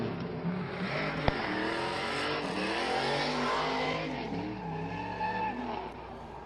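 At a speedway drift competition, a race car spins its tires into smoke, a sustained engine roar with tire squeal holding steady across the stretch, one sharp click near the start, heard at a moderate distance without speech.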